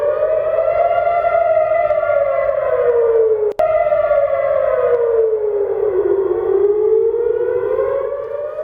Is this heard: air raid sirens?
yes